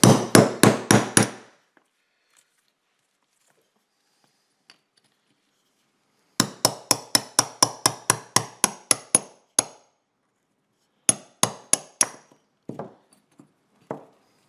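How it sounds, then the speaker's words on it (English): Sharp metallic taps of a small hammer on a nail punch driving out a Greenworks electric lawn dethatcher tine, a rapid series, then a longer run after a pause, then scattered lighter strikes. "we're going to have to tap it out with the nail punch and a small hammer"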